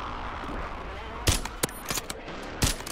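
Kar98k sniper rifle shots crack in Warzone, two sharp loud reports about a second apart with smaller impacts between, over a steady game background.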